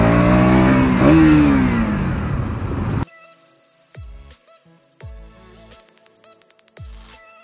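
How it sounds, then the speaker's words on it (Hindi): KTM Duke 200 BS6 motorcycle on a road ride: a loud engine rev up close, then the roar cuts away to quieter running with several sharp, quick drops as clutchless quickshifter gear changes fire in rapid succession. "ये देखो हमारी क्विक शिफ्टर बहुत ही अच्छे से वर्क कर रही है, विदाउट क्लच के गियर शिफ्टिंग हो रही है विदाउट एनी प्रॉब्लम"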